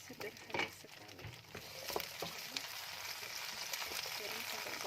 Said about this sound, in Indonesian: Goreng sampai golden.